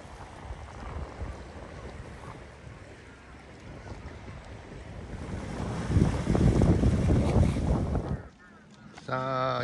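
Wind gusting around a boat at sea off Shin-Kamigoto, Japan, with surf and water rushing steadily close to the microphone. It swells louder near the end, then briefly drops away.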